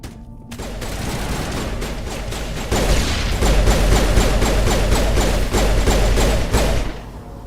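Sustained rapid gunfire from a Mass Effect firefight, dense bursts of automatic shots with heavy thuds and impacts, growing louder and denser midway before tapering off near the end.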